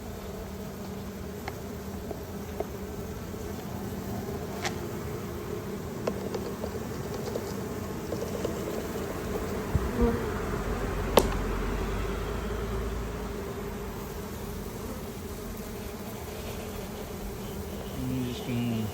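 Massive honeybee swarm buzzing steadily all around, a dense, continuous drone with a few individual bees passing close by, heard outdoors with no talking.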